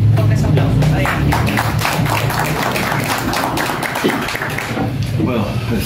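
Attendees at a regional government meeting with the provincial mayor clap steadily in sustained applause, with voices mixed in beneath it.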